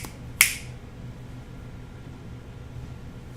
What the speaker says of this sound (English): I'm going to snap my fingers right now for some reason.